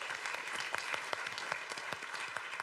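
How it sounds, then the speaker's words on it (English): Conference audience at an EU life science research and innovation event applauding a speaker, steady many-handed clapping with crisp individual claps, moderately distant and fairly quiet, no voices over it. "Big applause for Jeroen."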